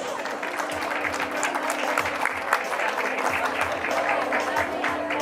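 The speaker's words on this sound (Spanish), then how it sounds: "los aplausos." Steady, lively applause from an audience at a primary school graduation party in Arequipa, continuous and fairly loud throughout, with faint voices mixed in.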